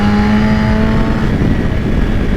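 A BMW S1000RR motorcycle accelerating hard on a slightly wet bend, its engine a loud, continuous close-up roar with a steady tonal whine throughout.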